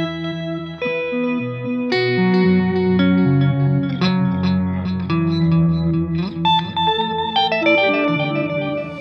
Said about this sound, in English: You could blend octaves in your delays.